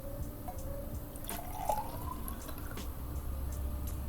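Water pours from a glass into a test tube, a faint close trickle and light splash with a few small drips, quiet and alone.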